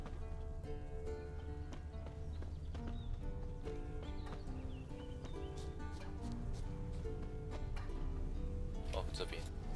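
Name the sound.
horse hooves and neigh, from a video game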